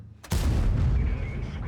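A tank cannon fires in World of Tanks, one sudden loud boom that hits hard and then rolls on as a long, heavy rumbling tail.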